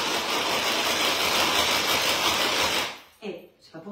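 A Speedy Chef 2 kitchen appliance runs with a loud, steady motor whir and buzz for about three seconds, then cuts off abruptly, followed by brief bumps and a voice.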